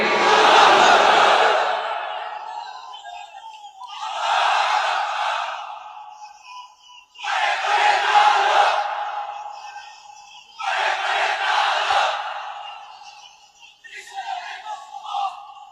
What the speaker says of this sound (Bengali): তাকবীর পড়েন তো দেখি